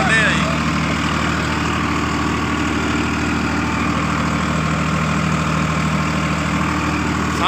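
A Farmtrac 60 EPX Powermaxx tractor, 8.2 litre, runs at steady revs with little load, a loud, close, even diesel throb with a rhythmic low pulse that holds without change throughout.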